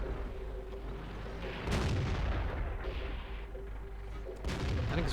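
A tank cannon fires in World of Tanks, a deep booming report rising out of steady engine rumble, followed by a second heavy thump near the end.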